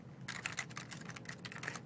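Rapid, continuous keystrokes on a computer keyboard while someone writes an HTML file in Visual Studio, close up and steady for about two seconds, with no talking.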